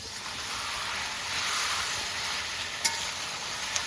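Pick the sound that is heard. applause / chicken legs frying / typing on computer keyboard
chicken legs frying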